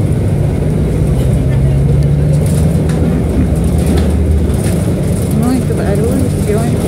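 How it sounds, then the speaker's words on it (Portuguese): Steady loud rumble and road noise inside a new city bus, a continuous dense drone throughout with no speech. "Um ônibus novo com a barulhada danada."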